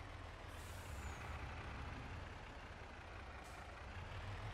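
A Mack truck in Farming Simulator 22 idles with a steady heavy engine rumble, punctuated by two short hissing air brake releases, the first near the start and the second toward the end.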